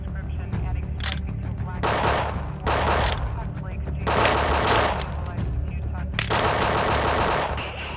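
Rapid bursts of gunfire from a police shootout in the United States, loud and dense automatic-sounding volleys repeating in several clusters, with sharp cracks over a constant rumble.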